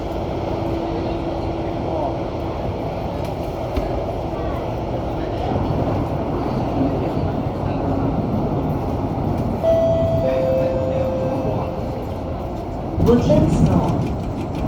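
An SMRT CT251 train on the Thomson-East Coast Line in Singapore runs from Woodlands South toward Woodlands North, giving a steady, close rumble throughout. Brief chime-like tones rise near the end, with faint voices in the background.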